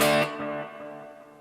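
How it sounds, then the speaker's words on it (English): A distorted electric guitar chord in a church rig rings out and decays into a long, washy reverb tail, fading steadily over about a second. "The next one is the exact same patch with a lot more reverb."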